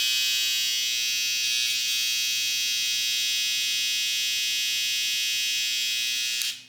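Electric hair trimmers buzz at close range, a constant high-pitched motor hum held steady for several seconds before cutting off abruptly near the end.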